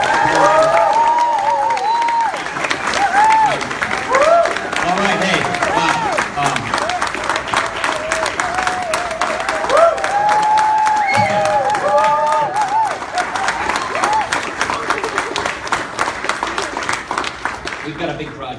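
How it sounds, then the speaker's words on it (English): A rally crowd at a grassroots political event applauds and cheers loudly and continuously, with dense clapping and whoops throughout while someone speaks briefly over the noise. "So let's give him a welcome round of applause."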